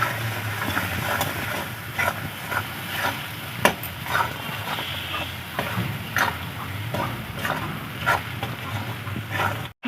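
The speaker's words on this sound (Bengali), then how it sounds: "হলুদ, চেরা কাঁচা লঙ্কা। ভালো করে মশলাটা আমি কষিয়ে নেব।" A masala paste with turmeric and slit green chillies is sautéed in a pan for a Bengali rohu fish curry, giving a steady sizzle with regular spatula scrapes and stirring clicks.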